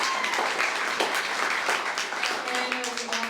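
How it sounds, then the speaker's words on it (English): Audience applause at a business talk on attracting top producers, a crowd clapping steadily for a few seconds while a voice speaks over it. "Can we give him a round of applause?"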